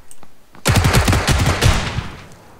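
Rapid volley of gunfire in PUBG, a dense burst of roughly a dozen loud, close cracks lasting over a second after a brief quieter lead-in, with no talking.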